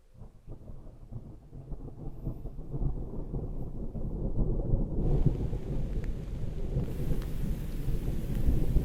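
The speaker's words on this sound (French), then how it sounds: "Notre premier orage." Deep thunder rumbles on and on as rain pours down, the storm growing louder and fuller over time.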